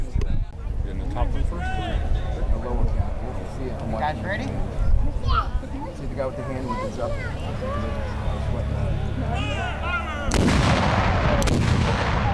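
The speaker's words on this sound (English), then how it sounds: "Do the cannons one at a time?" Cannons fire at a Civil War battle reenactment, several heavy booms scattered across the stretch, with a louder, closer blast near the end, while people talk and crowd chatter carries underneath.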